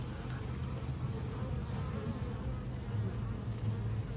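Honey bees from three side-by-side apiary colonies during spring maintenance, forming a steady, continuous, fairly close drone of buzzing with no talking.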